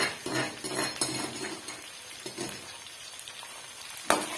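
Ginger and garlic frying in a pan with browned onion and chicken, a soft steady sizzle with light stirring and utensil scrapes, ending in a sharp clink near the end.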